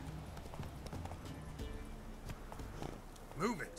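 Roach, Geralt's horse in The Witcher 3, clip-clops along in a quick rhythmic run of hoofbeats under a man's short spoken words, with a brief whinny-like cry near the end.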